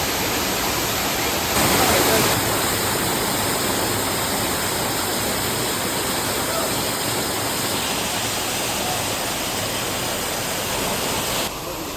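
Full waterfall at the Garden of Caves near Cherrapunji roaring in a steady, dense wash of water, loud and close, swelling briefly near the start and running unbroken throughout.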